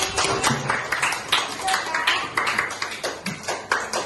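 Schoolchildren in a classroom clap together, a lively burst of fairly loud, rhythmic clapping that runs steadily for several seconds with no talking over it.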